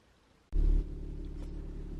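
A car engine cranks and catches, a loud burst of starting rumble settling into a steady idle close by.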